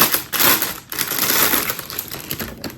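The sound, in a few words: plastic package being opened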